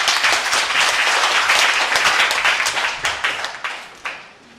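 Audience applauding after a lecture on the lives of wartime sexual slavery survivors, with loud sustained clapping that thins out toward the end as a few final claps fade.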